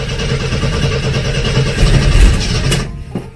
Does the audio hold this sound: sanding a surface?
no